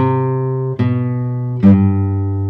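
Sustained guitar notes ring out clearly, with two fresh strums or plucked chords striking about a second apart, each decaying into a steady held tone.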